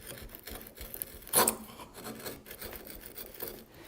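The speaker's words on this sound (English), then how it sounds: "Get that chisel right in the scribe line." A chisel cutting into a wooden board along a scribe line gives a steady, close rasping scrape, with one sharper, louder stroke partway through.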